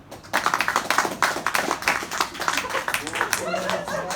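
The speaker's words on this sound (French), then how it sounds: "J'ai nommé la sorcière, que l'on peut applaudir très fort." Studio audience applauding loudly to welcome a guest dressed as a witch on a French TV show, strong rhythmic clapping that builds quickly and then gives way to a voice speaking near the end.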